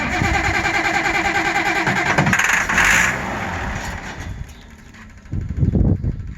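A used Allis-Chalmers 190 XT tractor bought at auction labors loudly as it cranks and sputters, the engine running rough and fading before a louder burst near the end, close up with brief talk.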